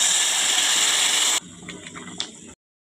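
Tamarind juice pours into a pan in a bright, hissing gush for about a second and a half, then gives way to a few soft clicks and faint trickles before going silent.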